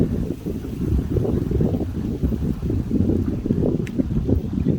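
Strong wind buffets the microphone in a steady low roar with gusting surges, loud and continuous throughout, with no voices.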